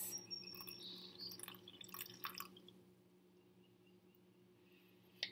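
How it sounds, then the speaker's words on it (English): Water from a measuring cup poured into pancake mix in a home kitchen, giving a quiet trickling, dripping splash over the first couple of seconds before fading to faint room tone. "I'm going to very carefully pour my water into my pancake mix"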